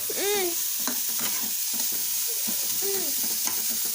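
Onion roasting in a pan, a steady sizzle with stirring scrapes, while a child's and an adult's voices chatter briefly over it.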